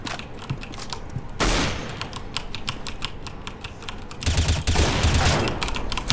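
Gunfire in the video game CS:GO, with loud bursts of automatic fire at the start and toward the end over near constant keyboard clatter from the player, no voices.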